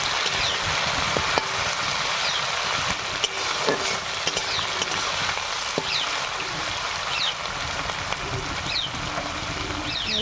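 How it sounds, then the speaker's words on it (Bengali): Shrimp fry together with onions in a pan, giving a steady, even sizzle and hiss throughout with faint crackles and no talking. "তারপরে পেঁয়াজের সঙ্গে চিংড়িটা ভাজা হয়ে যাবে।"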